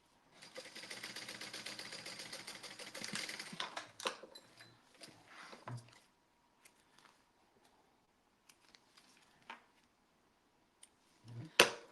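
A sewing machine topstitches the top portion of a garment in a fast, continuous rattling run of stitches for a few seconds, followed by scattered short bursts and mechanical clicks with quiet gaps between them.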